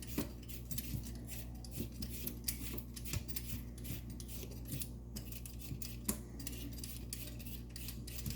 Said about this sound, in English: I'm gonna peel my potatoes and then I'll just soak them in cold water